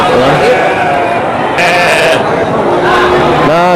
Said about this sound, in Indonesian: domba pejantan juga ya, domba Garut